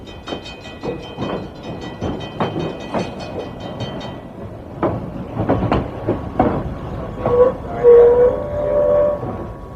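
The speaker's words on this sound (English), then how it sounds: "we'll take a peek at some freights as they move around in the train yard" Freight trains shuffle around a rail yard: sharp metallic clanks and couplings knock in an irregular rhythm over a low rolling rumble, with brief squealing wheel tones toward the end.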